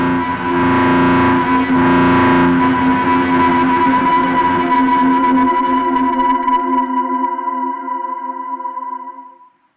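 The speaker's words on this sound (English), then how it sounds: "the reverb tail gets crushed and compressed, creating massive walls of sound" A synthesizer's reverb tail crushed and compressed by drive distortion forms a loud, gritty wall of sustained tones that rings on steadily, then fades away near the end.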